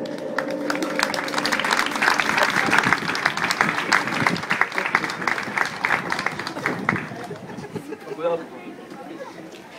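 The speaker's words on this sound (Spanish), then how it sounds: "Todos lo recibamos con un fuerte aplauso" A crowd at an evening church gathering in Tuxtla Gutiérrez claps loudly to welcome a visiting pastor, with dense applause and some chatter that thins out near the end as a voice begins.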